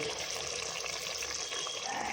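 Water poured into a pan of egg curry base with spices and tomato makes a steady, close, continuous gush and splash that holds evenly throughout.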